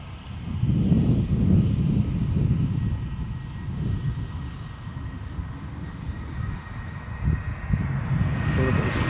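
An EasyJet airliner moving quickly along the runway at Edinburgh Airport makes a low, rumbling engine roar that surges and eases in waves, with a voice talking faintly underneath.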